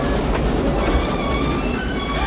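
A steam-era train from a Western film scene in Back to the Future III rumbles and rattles steadily, loud and close, with a high metallic whine running over the roar and no voices.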